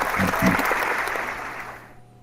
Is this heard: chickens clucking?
no